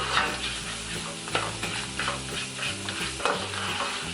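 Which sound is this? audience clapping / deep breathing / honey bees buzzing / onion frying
onion frying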